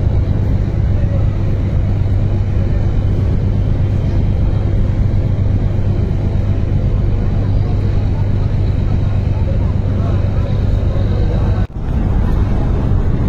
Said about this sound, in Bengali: ওই সাইড থেকে সুরভি 9 লঞ্চ ঘুরেই যাচ্ছে, আর এই সাইড থেকে পারাবত 12 লঞ্চও কিন্তু ব্যাক গিয়ার দিল।